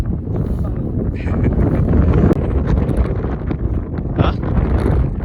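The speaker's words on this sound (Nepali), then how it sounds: "हावा यति चलेको छ" Strong, steady wind gusting across a high-altitude mountain border pass at Korala in Upper Mustang, a continuous loud roar and buffeting against the microphone throughout, with faint voices underneath.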